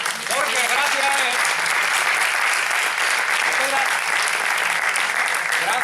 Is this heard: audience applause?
yes